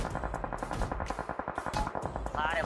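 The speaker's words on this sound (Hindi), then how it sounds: "यहाँ पे तभी बैक साइड भाई फायरिंग के साउंड आते हैं" Gunfire in the battle royale game BGMI, with rapid, closely spaced shots rattling through most of the clip in dense bursts, fairly loud with no speech over it.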